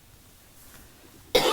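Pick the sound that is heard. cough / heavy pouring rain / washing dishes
cough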